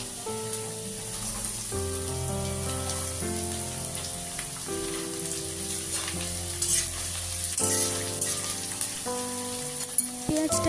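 Chopped onions with garlic and ginger sizzle in hot oil with a steady, rain-like crackle and occasional stirring, under a melodic background music track.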